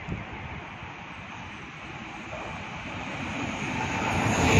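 A train passes along the track at Summer Hill, a steady broadband rumble that builds gradually louder across the few seconds with no voices over it.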